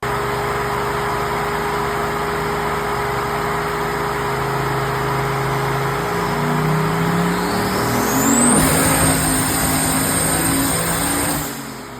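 A 408ci turbocharged Fox Body Mustang runs close by, a steady engine drone rising in pitch near the end as it revs up, with a turbo whistle climbing above, then easing off.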